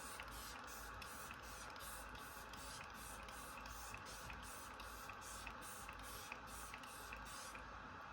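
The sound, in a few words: Benefit Super Setter setting spray being sprayed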